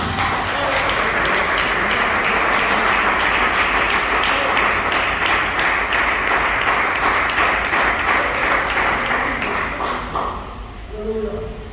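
Church congregation clapping in praise, a dense steady wash of many hands that carries on for about ten seconds and then fades, with a brief voice at the end.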